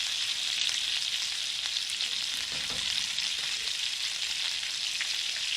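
Flour and fat browning in a hot pan for old-fashioned gravy, a steady close sizzle and fry hiss running evenly throughout with faint stirring scrapes and no talk.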